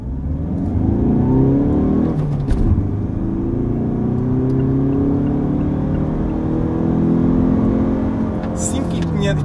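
A 2017 Mazda CX-5 diesel accelerates in first gear, its engine note rising steadily and loudly with a rough diesel drone. Someone talks over it during the pull.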